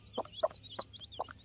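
Newly hatched country chicken chicks, about ten of them, pecking at rice beside the hen, giving several short, close peeps in quick succession over quiet background.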